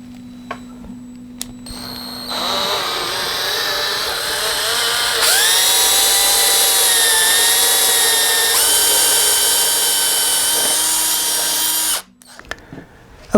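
A power drill with a 1/8 inch bit boring at an angle into a neck-through guitar body, whining loud and steady for about ten seconds, its pitch shifting as the bit bites, then stopping abruptly.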